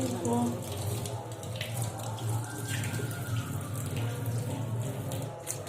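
Cut food, chicken and vegetables such as carrot and capsicum, is washed under a running kitchen tap, a steady splashing water stream throughout with a voice speaking over it.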